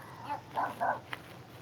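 A dog nearby gives a few soft whimpers and small yips in quick succession, faint and close, with no talking over them.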